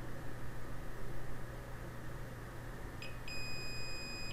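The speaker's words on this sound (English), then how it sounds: "So if they're attached, we should hear this beep." A continuity tester beeps while probing flash drive circuit traces. One sustained high electronic tone starts about three seconds in and holds to the end over a low steady hum. No one speaks.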